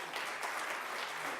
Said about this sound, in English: Let's give all of our entertainers a round of applause.